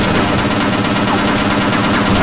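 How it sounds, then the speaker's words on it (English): Dense, loud rapid-fire gunfire from the video game Half-Life: Opposing Force, boot camp section, machine-gun bursts running continuously with no pauses. "I guess this is the only point in the game they can have soldiers shooting at you"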